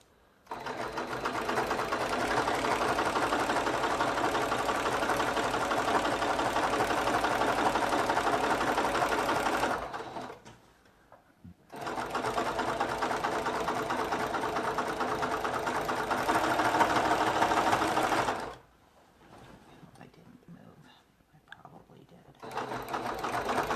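Sewing machine stitching a quilt border without backstitches, done quilt-as-you-go: two long, loud bursts of fast, steady motor whir with brief pauses between and a third starting at the end, close by.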